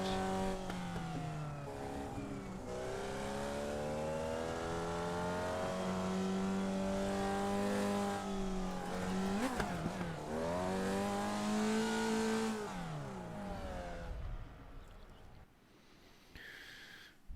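A racing car engine revs hard in a video game race, and its rising and falling whine holds steady and loud for most of the clip. It drops away near the end.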